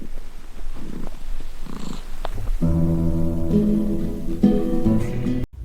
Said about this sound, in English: 2 purr motors at once